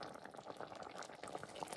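A pot of beans cooked with smoked turkey bubbles and churns as it is stirred, a faint, continuous wet simmering with small pops and gurgles.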